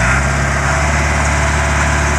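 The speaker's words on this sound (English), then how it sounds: "Just a good running motor." Caterpillar 416B backhoe diesel engine idling steadily up close, a continuous low rumble with an even throb and no voices.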